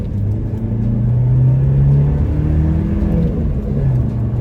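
A 1986 Mazda 626 GT Turbo Coupe with a five-speed manual transmission accelerates with a loud, close, low engine rumble, its pitch rising and falling as it pulls, with no talking.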